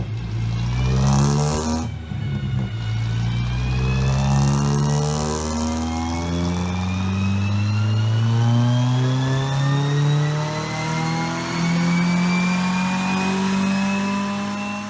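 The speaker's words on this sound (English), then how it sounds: "the car dynoed." A Toyota AE86 engine on a dyno, revving loud and close, its pitch climbing steadily through long pulls with brief drops between, and no talking.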